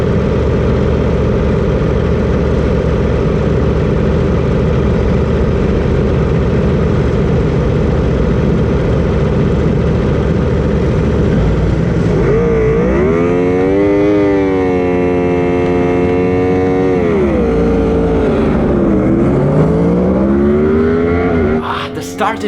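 Racing engines at a race start roar loudly and close by. One engine revs up and down in rising and falling sweeps through the gears over a steady mechanical drone.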